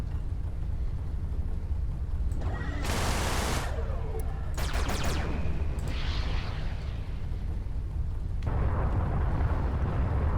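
Ship weapons in the space game Everspace firing at a mineable asteroid: loud bursts of rapid gunfire in several volleys over a constant engine rumble.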